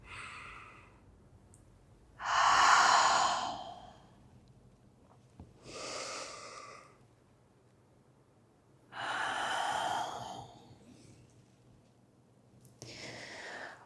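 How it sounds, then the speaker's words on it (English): Slow, deliberate breathing during a mobility exercise, four long, audible breaths with quiet pauses between them, close and clear against a faint steady hum. "Let's oscillate between these two, inhaling to open, exhaling to round."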